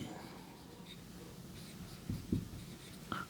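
A pen scratches out chemistry formulas in short, faint strokes with small taps, set against a quiet room background.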